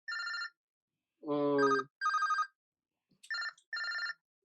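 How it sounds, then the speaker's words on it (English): A phone rings in repeated short electronic bursts, clear and fairly loud, with a voice briefly speaking partway through. "and that's my phone."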